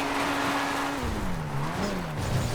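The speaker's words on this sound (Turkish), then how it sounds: "Ya kumda da gitmiyor bu araba" A car in GTA Online struggles and skids across sand, its engine droning loudly with a wavering pitch that dips and climbs as the tires slip, alone without talk.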